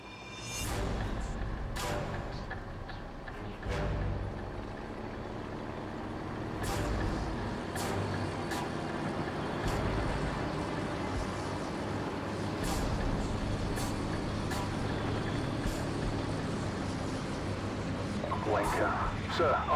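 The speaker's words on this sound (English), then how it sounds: "We're tracking an enemy convoy headed your way. I count 6 vehicles in the convoy, over." Enemy military convoy of six vehicles approaching in Call of Duty 4: Modern Warfare, heard as a steady heavy engine rumble with hissing air-brake bursts and scattered sharp clanks throughout.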